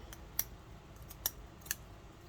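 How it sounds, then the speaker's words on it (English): Scissors snip through fabric during fabric bowl decorating, three sharp, quick metallic cuts spaced about a second apart against a quiet background, no talking. "I might have to cut this a little bit"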